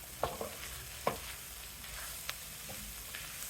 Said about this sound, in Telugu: తిప్పి ఫైవ్ మినిట్స్ వేయించుదాం